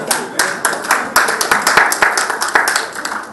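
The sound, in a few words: applause, clapping for God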